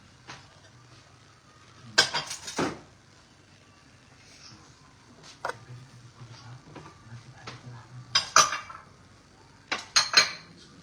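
Dishes, cutlery and pots clink and clatter while being washed by hand in a home kitchen, with several loud clustered bursts of metal and ceramic knocks between quieter stretches and a low background hum.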